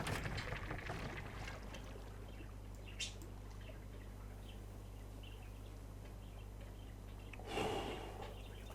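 A raft ride on water in The Park video game, with a quiet, steady low hum under soft watery lapping, a few faint splashy rustles early, and a brief louder splash near the end.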